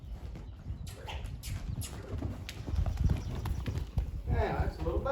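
An Appaloosa gelding lopes with steady, rhythmic hoofbeats close by, clip-clop pattern running throughout, while someone talks over it and a bird calls faintly near the end.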